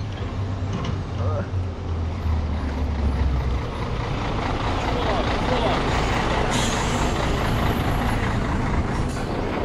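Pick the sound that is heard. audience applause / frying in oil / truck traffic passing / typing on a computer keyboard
truck traffic passing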